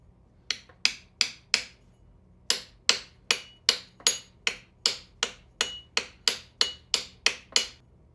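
Hammer blows knocking a pulley off a diesel engine during a rebuild: about sixteen sharp metallic strikes, close and loud, coming in two quick bursts of four and then a steady run of evenly spaced hits.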